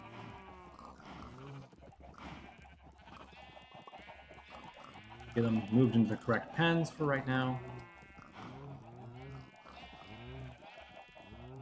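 Sheep bleat repeatedly in Minecraft while a player talks about herding farm animals into the right pens; several other livestock calls mix in, loudest around the middle.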